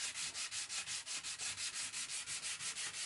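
Sandpaper of 240 grit is rubbed by hand over a wooden chair part, giving a steady back-and-forth rasp of about fourteen even strokes, close and fairly quiet, with no talk.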